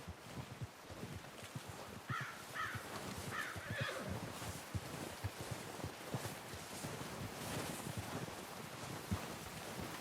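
A horse whinnies in the Red Dead Redemption 2 video game, short high neighs rising out of a constant wind-like outdoor rumble, fairly faint and partly masked.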